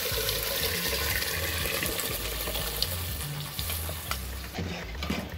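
Sizzling tempering as sour Hyderabadi khatti dal is poured in and stirred, a steady loud frying hiss with scraping stir sounds and liquid splashing throughout, no talking.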